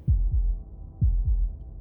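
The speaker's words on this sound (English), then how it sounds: "That was the sound of a heartbeat" A heavy, close heartbeat in Slay the Princess thuds twice in paired lub-dub beats, low and booming against near silence, with no one speaking.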